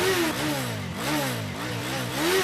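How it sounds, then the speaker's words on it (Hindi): A motorcycle engine runs close and loud, its revs swelling and dropping in repeated surges for a couple of seconds, with no talk. "बाइक पे किक मार।"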